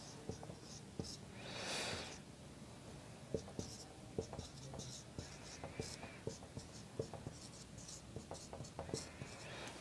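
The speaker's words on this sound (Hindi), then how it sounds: "लिख देता हूँ।" Chalk or marker writing on a board during a Hindi-language polity class: faint, scratchy strokes and soft taps repeat irregularly, close by and quiet, with low room noise around them.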